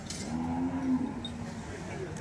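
A Nili-Ravi buffalo at a livestock sale gives a single drawn-out low moo lasting about a second, fairly near, amid faint outdoor background noise.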